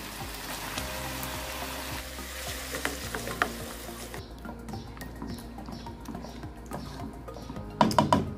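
A creamy mushroom chicken sauce sizzles in a pan with a steady crackle and occasional stirring, growing quieter partway through and ending with a few clinks of the spoon against the pan.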